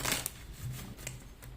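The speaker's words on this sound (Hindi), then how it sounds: "That's why I will give this card a thorough shake up." Tarot cards being shuffled by hand, a quiet, close series of brisk riffling bursts with short pauses between them.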